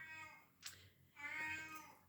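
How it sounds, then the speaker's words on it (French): A house cat meows twice, a short cry followed by a longer, drawn-out wail, close and fairly quiet in an otherwise still room. "mon chat crie parce que je ne suis pas là."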